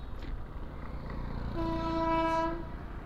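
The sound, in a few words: Konkan Railway train passing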